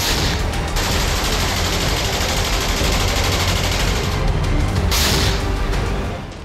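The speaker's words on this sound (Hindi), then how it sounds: "शहरों में चारों ओर गोलियों की आवाज सुनी जा सकती है।" Dense gunfire crackles during fighting in an Afghan city, a continuous loud fusillade of shots with a few heavier bursts standing out, and no one speaking.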